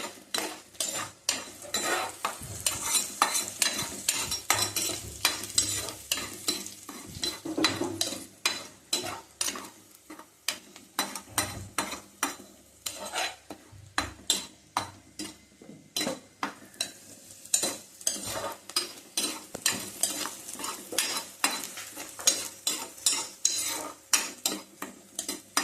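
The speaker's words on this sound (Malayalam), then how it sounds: "നല്ലോണം ഒന്ന് ഒരു ബ്രൗണിഷ് കളറാവുന്ന നല്ലോണം ഇളക്കണം." Onion and kanthari chili fry in a pan, a low constant sizzle under repeated rhythmic scraping and clinking of a spoon stirring against the metal, steady for the whole stretch with no talking.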